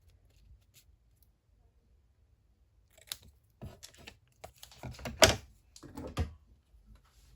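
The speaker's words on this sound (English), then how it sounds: "Let me just cut these angles out just to create a tag shape." Scissors snip angled corners into single sided paper to shape a tag, a quiet run of short crisp cuts and paper rustles clustered in the second half after a near-silent start.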